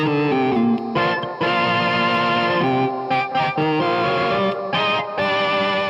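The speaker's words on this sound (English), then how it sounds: "you would get this by running the sound through a crunch pedal that sounds like this" Loud, gritty organ chords overdriven through a crunch pedal, sustained and shifting in short phrases, with a crunchy distorted edge and no voices.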